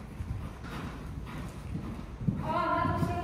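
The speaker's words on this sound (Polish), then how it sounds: "No to nie jest byle jaki koń!" Hooves of a sport horse clip-clop at a walking pace over wind noise, and a voice starts speaking toward the end.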